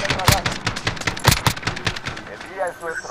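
A PKM machine gun fires in a video game, cracking out sharp rapid bursts at close range while someone talks over the shooting.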